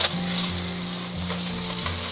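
Cooking wine hits a hot pan of pan-fried yellow croaker with green onion and ginger, raising a loud, continuous sizzle and frying hiss with faint stirring, close up and without speech.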